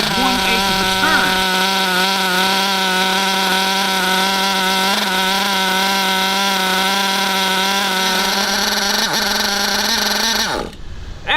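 Redcat nitro RC car engine running steadily with a loud, buzzy high-pitched drone, close by, briefly revving near the end before cutting off.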